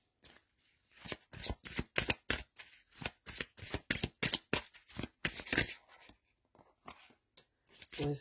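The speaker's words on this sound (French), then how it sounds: "on va aller prendre 4 cartes" Tarot cards shuffled by hand before a four-card draw for a Scorpio monthly reading, a close run of crisp riffling slaps and flutters in quick bursts, with brief pauses and no talk.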